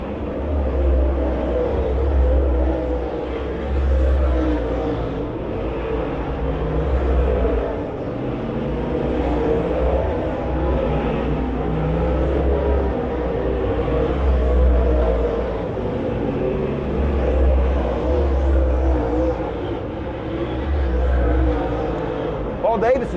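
Late model race cars roar around the Southern Ohio Speedway in a steady, rumbling drone with a deep low-end throb. A race announcer talks over the engine noise throughout.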